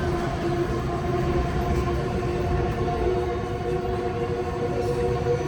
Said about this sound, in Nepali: मेरो ट्रेन आउँदैछ